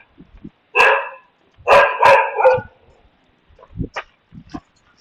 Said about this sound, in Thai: ตัวนี้ก็เห่าเหลือเกิน